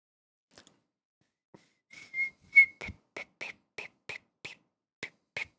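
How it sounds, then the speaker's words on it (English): A person whistles a short, halting series of clear notes, starting with a few tentative faint attempts and then a run of brief separate toots, close and alone in a quiet room. "Pretend I can whistle."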